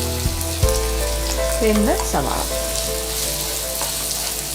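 Sliced onions sizzling loudly in a pan of oil along with garlic, ginger and green chili, a steady crackling fry with a few brief clinks and stirring sounds, while a voice speaks briefly.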